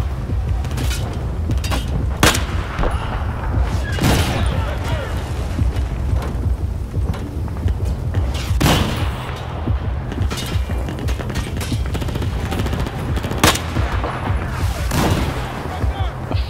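Gunfire in the video game Battlefield 4 on PS4: repeated sharp bursts and single shots scattered across a busy, constant battle din, with a player talking over parts of it.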